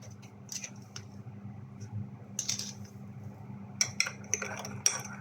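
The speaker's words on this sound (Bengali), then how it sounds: "আমার কপিটা এখন আমি চিনি ডালবো" A metal spoon clinks against a cup while sugar goes into coffee, several bright, sharp taps and scrapes spaced irregularly over a quiet low hum.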